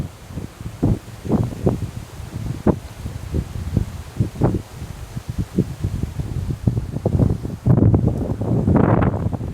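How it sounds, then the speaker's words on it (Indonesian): Strong wind gusts outdoors, a continuous buffeting roar with rustling and bursts of microphone wind noise that build louder toward the end, no voices. "Tiba-tiba angin tambah kencang."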